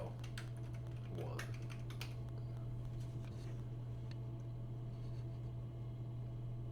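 Computer keyboard typing, soft clustered keystroke clicks in short bursts over the first seconds and then thinning out, faint and close against a steady electrical hum.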